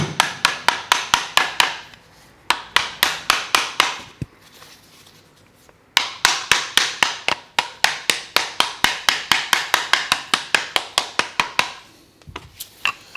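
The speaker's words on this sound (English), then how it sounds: "And then we need to take us rubber hammer" Rapid bursts of sharp rubber hammer taps on a Bosch motor casing, close and steady, separated by brief pauses, with no talking.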